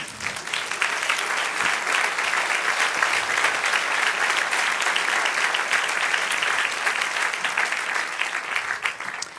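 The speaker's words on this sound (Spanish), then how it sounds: "Denle un aplauso al Señor." Sustained applause from a church congregation honoring the Lord during a sermon, a dense steady wash of many hands clapping at even loudness throughout, with no voices standing out.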